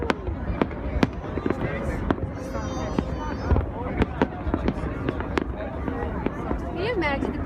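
Macy's 4th of July fireworks burst in a rapid, irregular series of sharp booms and crackles, some near and some distant, under steady crowd chatter and voices talking nearby.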